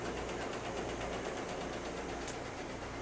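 Embroidery machines run steadily in a New York embroidery studio factory, a continuous mechanical hum with a fast rhythmic chatter, moderately faint and unbroken throughout.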